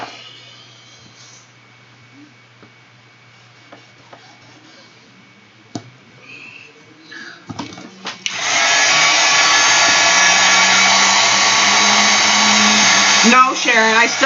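Heat dryer drying a napkin art journal page, switching on after quiet handling sounds and blowing as a loud steady whir for several seconds until shut off.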